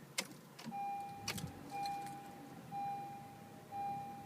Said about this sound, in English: Key in the ignition, ignition on.